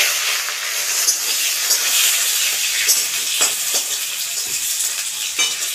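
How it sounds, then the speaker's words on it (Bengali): Potato pieces for a jackfruit and shrimp curry frying in hot oil, a steady loud sizzle and hiss with occasional stirring scrapes throughout. "এটা আমি ভেজে নেব।"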